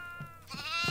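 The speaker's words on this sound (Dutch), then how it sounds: "Geitje, geitje, kijk. Ook zo hard. Echt hard geluid." A goat bleats in a video game, three wavering, nasal bleats rising in loudness, close and alone with no talk.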